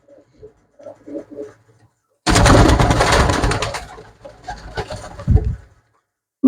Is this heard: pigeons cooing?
yes